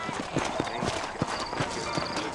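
Horse hooves clip-clopping at a steady trot in the Red Dead Redemption video game, a regular beat of thuds over background ambience, with a voice talking over it.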